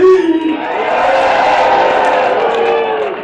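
Spectators at an Alaskan lumberjack show in Ketchikan roar and shout together, a sustained, loud wave of cheering that opens with a strong burst and slowly fades a little.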